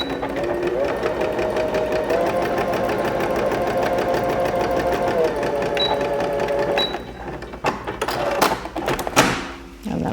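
A sewing machine stitches one side of a garment bag in a fast steady whirring run, close and clear for about seven seconds before slowing and stopping, followed by a few handling clicks and rustles.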